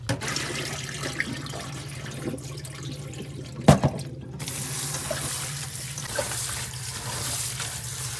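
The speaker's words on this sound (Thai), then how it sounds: "คุณแม่ก็จะล้างน้ำนะคะ" Tap water runs steadily into a sink while vegetables for kimchi are rinsed, a continuous close splashing flow with a brief louder clatter midway and no voices.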